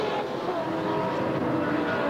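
Race cars from the 2000 Commodore Cup circuit at Oran Park, a steady dense engine roar of several cars running together at moderate distance, continuous and unbroken without talk.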